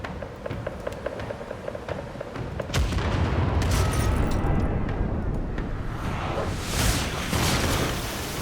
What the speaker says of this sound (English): Okay, fire the starboard cannons.